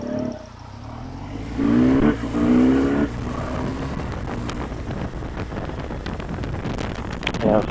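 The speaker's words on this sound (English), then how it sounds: "that downshift is no clutch, just flipping the throttle, no rev matching" A 2013 BMW R1200GS LC motorcycle riding on a freeway, its engine note rising briefly in a throttle blip during a clutchless downshift, then droning steadily beneath constant buffeting wind noise.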